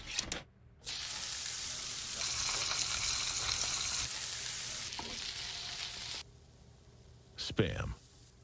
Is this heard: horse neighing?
no